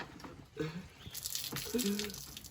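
Tap water runs and splashes into a sink as it is poured to rinse eyes stung by pepper spray, a steady close wash with a voice speaking briefly over it.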